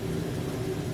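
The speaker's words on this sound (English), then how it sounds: "The sound you can hear in the background is the blower." A pipe organ blower gives a steady low mechanical hum with a droning tone, continuous and even throughout, in a church.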